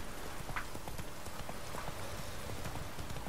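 Roach the horse trotting in The Witcher 3, a steady rhythm of hoof clip-clops at moderate distance over a soft ambient backdrop.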